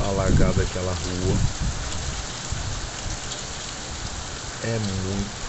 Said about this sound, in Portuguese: olha o que está caindo de chuva aqui em Recife